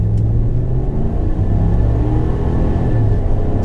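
A 2020 Chevy Black Widow lifted pickup truck idles close by with a deep, steady engine rumble, loud and unbroken for almost four seconds with no talking.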